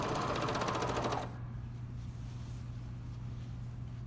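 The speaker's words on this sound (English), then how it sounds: "you're going to just merge the serger into that line" A serger runs at speed with a fast, even mechanical buzz while stitching a waistband on a bomber jacket, then stops abruptly after about a second, leaving a low steady hum.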